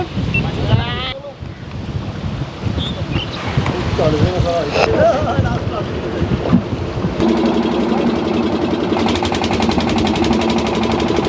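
A motor boat on a fast-flowing river near the Kacchi Dargah–Bidupur bridge roars into a loud, steady engine drone partway through, after windy, splashing water and indistinct voices at the start.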